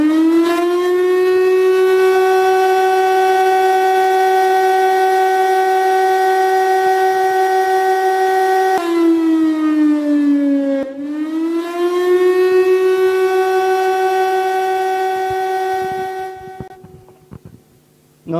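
Fire brigade siren sounding alone as a loud, steady, pure wailing tone that dips briefly in pitch, rises again and then winds down toward the end.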